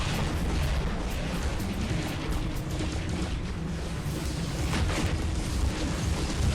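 Robot weapons firing in the video game War Robots, a continuous barrage of booming shots and explosions that rolls on at a steady, loud level without pause.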